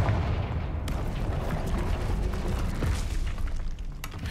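A Confringo fire spell blasts in Hogwarts Legacy, a dense rumbling explosive burst sustained across the whole stretch amid busy game action, with a sharper crack near the end.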